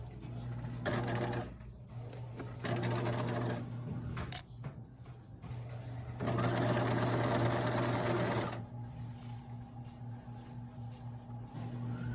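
A close sewing machine runs a 5/8-inch seam in two loud, steady whirring bursts separated by a brief stop, with a lower hum continuing between and after them.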